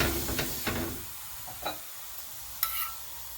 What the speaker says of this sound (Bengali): এইভাবে দুই দিকেই তেল দিয়ে আমরা এটাকে একদম কম তেলেই ভাজছি